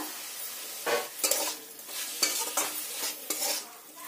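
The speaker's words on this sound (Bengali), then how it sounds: "দিয়ে মশলার সঙ্গে থোড়টাকে ভালো করে কষাতে হবে" Banana stem being stirred and fried with spices in a pan, with several scraping strokes of a utensil over a steady sizzle, close by and no talking.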